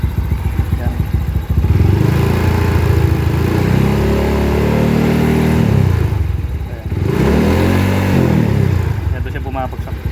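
A Mio i 125 motorcycle with a Pitsbike ECU V4 tune revs hard twice at close range, each loud engine swell rising and falling in pitch, with a brief dip between the two runs.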